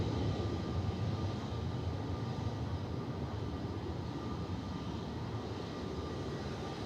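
A Ryanair Boeing 737-800 operated by Malta Air rumbles steadily on departure from Manchester Airport, a broad, constant engine roar that stays loud and unbroken throughout, with no voices.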